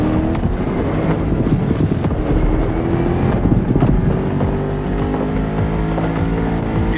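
Loud, steady engine roar of a 1969 Ford Mustang Boss 429 muscle car in The Crew Motorfest racing game, a continuous rumble with shifting pitch as it drives, alone without talk.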